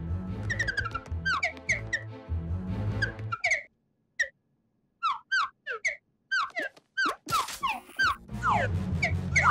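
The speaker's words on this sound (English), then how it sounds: "From where are these humorous whistles originating?" Squeaky, comical whistles in a cartoon pipe up in quick bursts of rising and falling chirps, some stretched and wavering, clustered together with brief silences between them and no voices.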